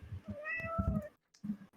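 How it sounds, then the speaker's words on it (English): A cat meows once with a rising and falling tone, near and fairly clear, between low rustling and muffled background sounds. "oh, that was a cat. That was definitely a cat."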